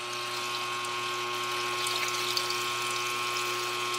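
A used parts washer pump primes and runs with a steady electric hum and a liquid gurgling wash, heard close and constant throughout.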